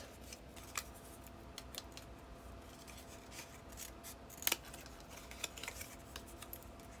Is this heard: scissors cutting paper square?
yes